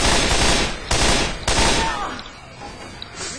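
A mounted gun fires in Left 4 Dead, loud sustained bursts of rapid automatic fire broken by short pauses, the last burst trailing off into quieter game noise and scattered impacts.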